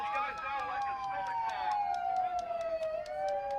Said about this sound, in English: It's just a siren.